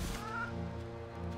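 A chicken clucks and squawks in the video game REKA, a short, close, rough call with a brief raised squawk near the start, heard alone.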